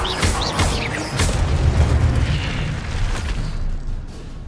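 Fiery spell blasts from Incendio cast in the video game Hogwarts Legacy: loud whooshing bursts and booms that overlap in quick succession before fading slightly.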